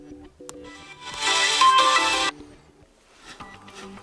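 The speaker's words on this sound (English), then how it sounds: "select your custom ringtone from the list" A custom ringtone plays on a Samsung Galaxy Z Flip 3, a bright melodic burst of about a second and a half that rings out loud and clear between softer tones and taps.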